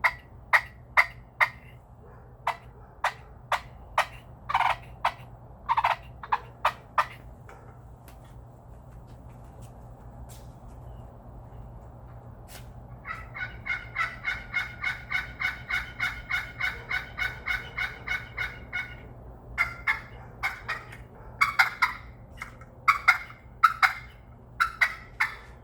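A handmade push pin turkey call giving sharp, separate clucks, then a long, fast rhythmic run of yelps, then more scattered clucks. The calls are close and clear over a quiet, steady hum.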